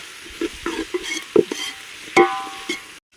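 Crab masala with onion, tomato and ginger frying in a pan, with short scraping stirs and light sizzling in bursts, close and moderately loud, ending in near silence.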